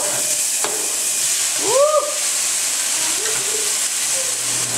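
Chopped vegetables go into a pan of frying steak for Mexican-style bistec: a steady, broad hiss of sizzling and steam fills the clip, with a few faint tonal squeaks and a soft knock early on.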